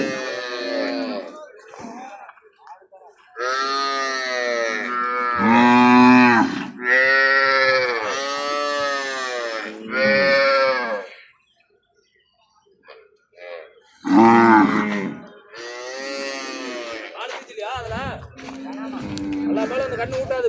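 Cows moo repeatedly at a cattle farm, long drawn-out calls close by and fairly loud, broken by short pauses.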